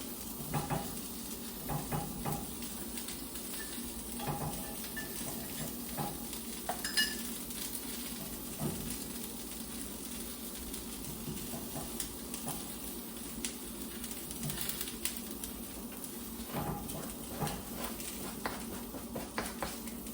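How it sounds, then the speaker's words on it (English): Cauliflower sizzles and fries steadily in a hot pan, with occasional stirring scrapes and light clinks running through the continuous crackle. "Love a sizzle."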